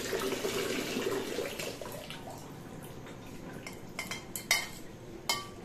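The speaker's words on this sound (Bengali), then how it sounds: "এখন বেগুনগুলো একটু ধুয়ে নিচ্ছি" Eggplants being rinsed under a running kitchen tap, a steady wash of water with a few soft clinks and splashes toward the end, no voices.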